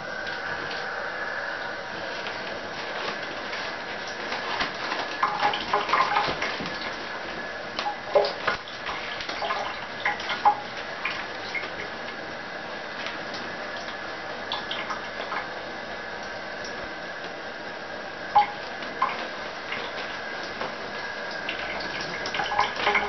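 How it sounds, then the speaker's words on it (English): Layers of newspaper soaking in water, with irregular faint drips, splashes and soft wet ticks scattered over a quiet, continuous watery background. "so now let's soak it in water"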